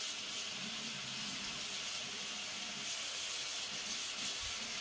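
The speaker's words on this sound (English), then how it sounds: "Let me wet this knife a little bit." Water runs steadily from a kitchen tap onto a knife blade, a continuous soft hiss and splash close by for several seconds, with no voices.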